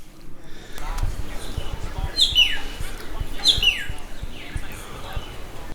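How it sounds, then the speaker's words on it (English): A bird calls from a tree along Darwin's Esplanade in the tropics, two sharp, descending calls a second apart, clear and fairly close, over a low rumbling background. "I can see the bird is making that noise just up there."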